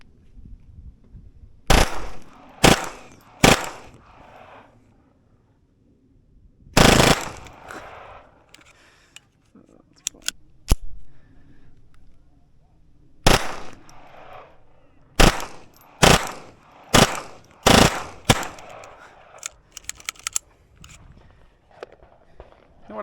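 A Taurus TX22 compact pistol fitted with an FRT trigger fires in rapid bursts outdoors: sharp, close cracks in quick clusters separated by short pauses, with faint shuffling between strings.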